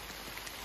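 Heavy downpour over marshland, a dense, steady hiss of rain filling the whole short stretch with no talk.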